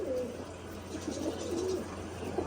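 Pigeons coo steadily in soft, low, throaty phrases over a constant background hum, with several birds overlapping throughout.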